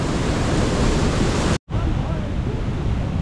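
The waterfall at Edessa rushes loudly from its top, with water striking a tree: a constant, heavy, broadband roar, cut by a brief dropout midway and then resuming at full strength.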